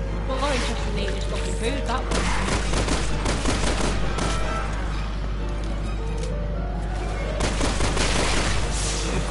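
Rapid gunfire in the Resident Evil 6 co-op video game, with dense bursts of shots crackling almost continuously and a player's voice speaking over the shooting.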